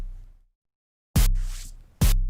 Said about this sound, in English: Just short little noise blips